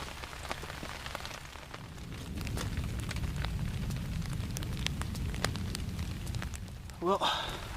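Steady rain patters outdoors on surfaces around a camp cooking spot with a canteen cup, a dense crackling hiss punctuated by louder individual drops, with a brief voice near the end.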